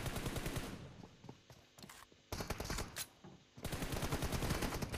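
Rapid bursts of automatic video game gunfire, loud and close, broken by brief lulls before another sustained volley.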